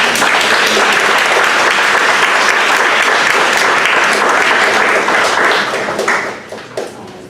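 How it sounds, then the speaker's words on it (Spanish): An audience at a church workshop event breaks into loud, sustained applause, dense clapping that fills the room for about six seconds before tapering off to a few scattered claps. "un aplauso, por favor"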